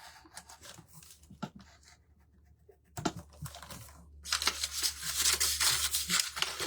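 Sharp X-Acto knife blade slicing through the pages of a book, heard as close, irregular scratchy cuts that start quiet and sparse, then turn into denser, louder rasping strokes toward the end.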